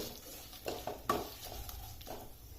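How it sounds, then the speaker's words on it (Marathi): Red chilli and asafoetida sautéed with crisping curry leaves in a pan for a kadhi premix give a faint, low-level sizzle. Several soft scrapes and clinks of a stirring utensil sound against the pan, and there is no talk. "त्यात टाकूया लाल मिरची आणि नंतर हिंग हे मसाले परत एकदा छान परतवून घ्यायचे थोडेसे"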